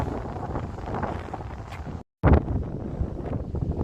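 Strong gusty seaside wind at Sheerness buffeting the microphone, a loud rumbling roar with a brief dropout and then a harder blast, no voices.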